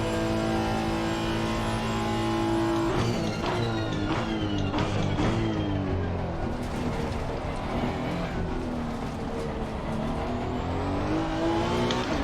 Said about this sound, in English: You have to be on throttle so early, even before you actually want to accelerate, because the turbo kicks in so late.